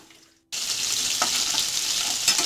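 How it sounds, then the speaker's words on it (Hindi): Chopped onions, green chilies, garlic and coconut are sautéing in hot mustard oil. After a brief quiet moment, a loud, steady sizzle suddenly takes over and stays close and continuous. "ये देखिए, हमने सारे प्याज, हरी मिर्ची, लहसुन और नारियल को इसमें डाल दिया है और 5 मिनट तक बस इसे हम सौटे करेंगे"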